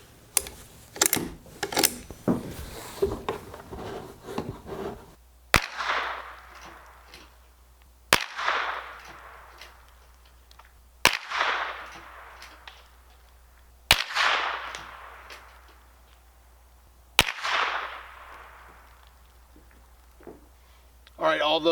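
A Henry Golden Boy lever-action rifle firing .22 Long Rifle rounds outdoors, five sharp, evenly spaced shots about three seconds apart, each with a short ringing tail, after a stretch of mechanical clicking and handling noise.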